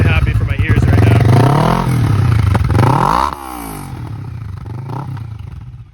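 A Kawasaki Ninja 650 engine revs up and drops back, loud and close, with a raspy exhaust note muffled by the exhaust baffle sweeping through each rev.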